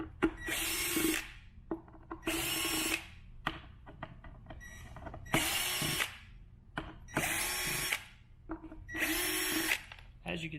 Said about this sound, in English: Try to remove the 6 screws we have on the bottom plate here in the motor control.